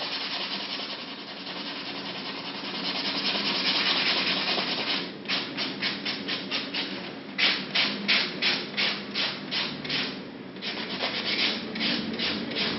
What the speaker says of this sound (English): you need to use a 100 grit buffer block and go over the top of the nail.